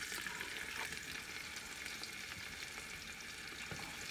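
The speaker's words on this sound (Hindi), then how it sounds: "मैंने प्याज डाल दिया, थोड़ा सा इसे भूनेंगे" Chopped onion frying in a pan for a potato cauliflower curry gives a steady, soft sizzle with faint crackles and light stirring, quiet and continuous throughout.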